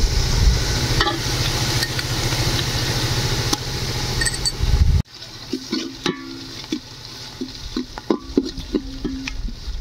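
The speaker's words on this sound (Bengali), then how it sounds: "পেঁয়াজগুলো আমার লাল লাল করে ভাজা হয়ে গেলে এই সময় আমরা দিব এখন আদা রসুন বাটা" Ginger garlic paste going into reddish-fried onions in a pan for chicken dum biryani: a loud, dense sizzle and stirring for about five seconds, then an abrupt drop to quieter spluttering and light clinks, with no talk.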